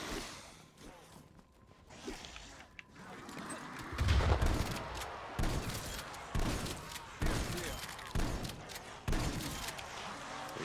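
Gunfire in Black Ops Cold War Zombies comes as repeated sharp shots in bursts over busy game noise, fairly close, with a person talking over the action.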